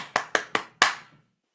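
Four sharp hand claps beat out a short 4/4 rhythm, three evenly spaced quick claps followed by a slightly stronger fourth, close and clear in a quiet room with a short decay after the last.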